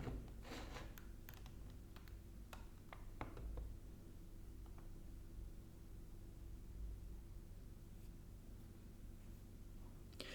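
Keys tap in scattered, uneven bursts on a computer keyboard, quiet and close against a steady low hum of background noise, with no one speaking.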